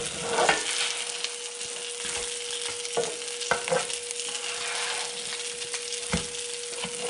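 Flipped chicken schnitzel sizzles in a pan, a continuous close crackle of hot oil with a few sharp pops and spatters, with no voices over it.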